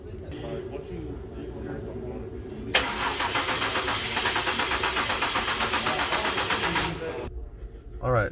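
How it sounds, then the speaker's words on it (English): A car engine cranks and fires up at a vehicle with a fuel rail being worked on, with a loud starter whir for several seconds before the motor settles, close by, after some background voices. "then start the vehicle up"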